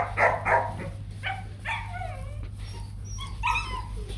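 A Rottweiler puppy gives a series of short whimpers, whines and yips, some rising and falling in pitch, heard close by over a steady low background hum.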